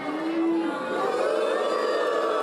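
Students on a second floor cheering a wrestler at a wrestling match in Mortagne, a sustained crowd roar with whistles and shouts, held at a steady level throughout.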